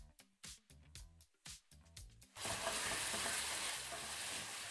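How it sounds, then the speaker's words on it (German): Chicken is stir-fried in a wok with plenty of oil over high heat; a few sharp scraping and stirring clacks are followed by a loud, steady, close sizzle that carries on to the end. "Das ist jetzt dieses typische Wokbrutzeln."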